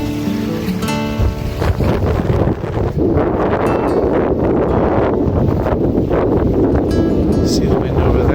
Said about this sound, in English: See the wind over there coming in hard.